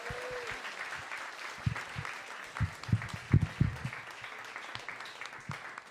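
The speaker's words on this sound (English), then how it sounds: "Another big round of applause for all of them" An audience at an evening speaking event breaks into applause for the night's speakers, steady clapping with louder, punchy hand claps standing out near the middle before it thins out.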